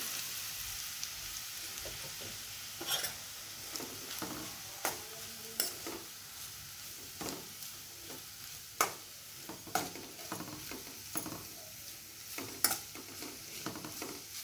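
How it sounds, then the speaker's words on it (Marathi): Freshly grated coconut sizzles softly in ghee while a spoon scrapes and taps the pan in an irregular rhythm, quiet and close, as filling is sautéed for modak. "चांगलं असं तुपामध्ये परतून घ्यायचं आहे"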